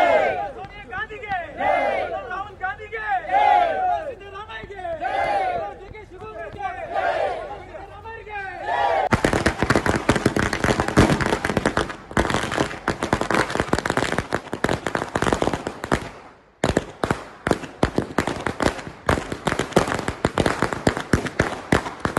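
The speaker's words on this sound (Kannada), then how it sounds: "ಮಂಗಳೂರು ಕಾಂಗ್ರೆಸ್ ಕಚೇರಿ ಎದುರು ಪಟಾಕಿ ಸಿಡಿಸಿ ಸಂಭ್ರಮಾಚರಣೆ ಮಾಡಿದರು" Party workers celebrate outside the Congress office in Mangaluru: a crowd chants and shouts at first, then a long, dense string of loud firecrackers bursts in rapid, crackling volleys with a brief pause near the end.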